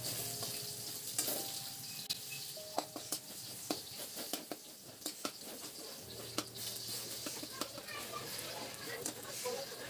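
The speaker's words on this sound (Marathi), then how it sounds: "हा लसूण मी एकदम खरपूस करून घेणार आहे" Crushed garlic frying in hot oil until crisp for bhadang, a steady busy sizzle with scattered sharp crackles and pops running throughout, close and moderately loud, with no talk over it.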